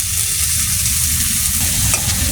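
Chopped onion, garlic and green chilies sizzle loudly in hot oil in a pan, a steady close frying hiss with a brief stirring scrape near the end.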